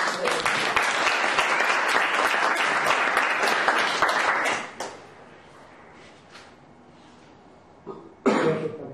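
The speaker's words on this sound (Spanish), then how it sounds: "un fuerte aplauso para él" Audience applause at a public-speaking club event, a dense burst of clapping that fills the first half and then stops abruptly, followed by near silence, a few faint knocks and a short noise at the end.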